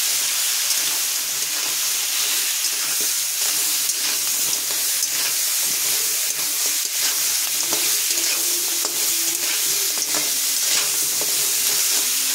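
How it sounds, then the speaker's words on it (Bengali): Crab and fish, seasoned with turmeric and salt, fry in a pan with a loud, dense, unbroken sizzle and hiss, punctuated by occasional stirring clicks, close up and with no voices. "এবার এখানে ভাজা করবো।"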